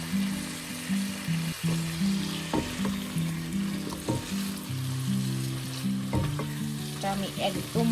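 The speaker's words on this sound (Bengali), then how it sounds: "আমি মশলাটা আগে কষায় নিচ্ছি, তারপরে হচ্ছে আমি কাঁকরোলগুলো দিয়ে দিব" Spices and teasel gourd fry in a pan with a strong, steady sizzle, punctuated by repeated stirring clicks and scrapes, with tonal background sounds running underneath.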